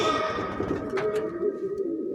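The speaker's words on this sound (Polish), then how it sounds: "gołąb o ciemnym oku." A completely white pigeon with dark eyes coos softly and repeatedly, close by and low in level, over a faint steady background hum.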